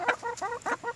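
Backyard homestead chickens cluck in a short run of about five close, clear calls with brief gaps between them and no talking over them.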